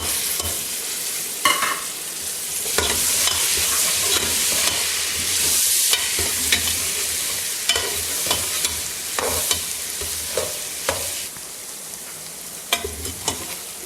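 Garlic cloves sizzle and fry in hot oil for mutton karahi, Peshawari style, with steady close frying hiss broken by repeated scraping stirs of a spoon against the pan.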